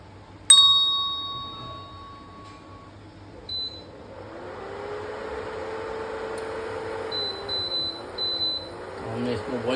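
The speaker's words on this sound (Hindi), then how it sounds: "इंडक्शन को ऑन करेंगे।" An induction cooktop switches on in a kitchen with a sharp beep near the start and a few softer beeps later, followed by a steady low hum, with voices faintly in the background.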